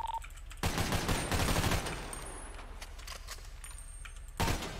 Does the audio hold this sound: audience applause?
no